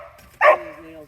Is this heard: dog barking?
yes